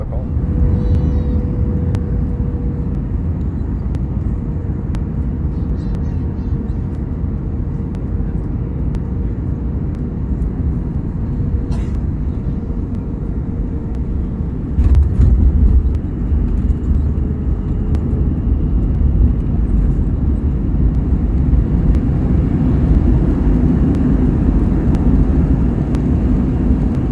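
An SAS Scandinavian Airlines Airbus A321 cabin hums with a loud, constant engine roar during the landing approach into Stockholm, with a brief louder rumble midway and faint chimes and voices beneath.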